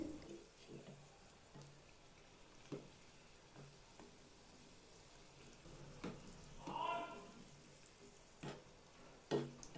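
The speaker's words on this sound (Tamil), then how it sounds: "ரெண்டு பக்கமும் நல்லா வெந்து கிறிஸ்பி ஆகிற வரைக்கும் பெரட்டி விட்டு வேக விட்டுக்கலாம்." Onion samosas deep-frying in oil in a street-shop style kitchen, a quiet, steady bubbling sizzle with soft stirring clicks and a brief louder burst of frying partway through.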